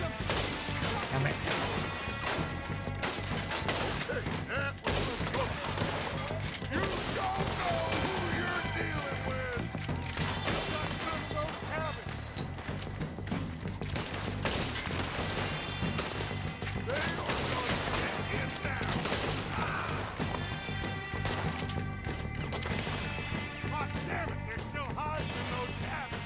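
Dense in-game gunfire and crashing impacts from Red Dead Redemption 2, continuous and loud with layered shots and sounds of mayhem throughout.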